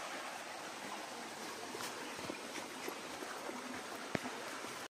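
A stream flowing below a footpath in an outdoor adventure spot, an even, rushing wash of water heard at a moderate distance, faint and continuous, with one brief knock near the end.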